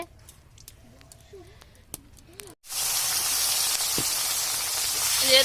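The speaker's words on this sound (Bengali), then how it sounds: "তেলের মধ্যে মা টমেটো, পেঁয়াজ, রসুন একসাথে দিয়ে দিল" Tomato, onion and garlic hit hot oil with a sudden loud, steady sizzle that persists to the end. Before it, a quiet kitchen holds only faint talk.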